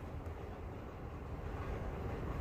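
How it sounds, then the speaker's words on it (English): A train rolls by as a steady low rumble, a continuous dense roar held at even loudness from start to finish with no voices over it. "I'm sorry, this is a train"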